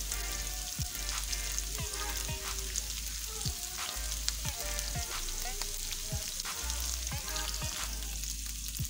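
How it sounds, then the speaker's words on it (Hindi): Garlic fries in hot oil for a minced-meat keema dish, a steady close sizzle and crackle punctuated by regular scraping stirs of a spoon against the pan. "लहसुन को फ्राई करके गोल्डन कर लेंगे।"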